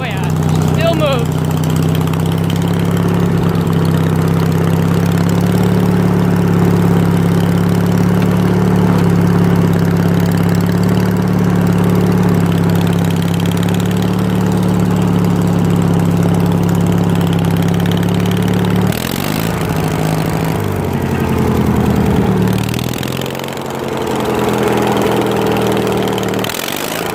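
Riding lawn mower engine running in first gear, a loud, steady, close mechanical drone that shifts and roughens partway through, with faint talking underneath.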